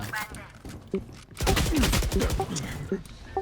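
Bursts of gunfire in a tactical shooter game, with the Yoru agent in play, ring out as rapid clustered shots and a dense volley, while a voice talks over parts of the action.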